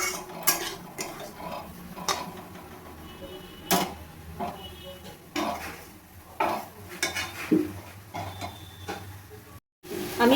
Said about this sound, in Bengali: এইভাবে আমি নেড়ে নেবো ভালোভাবে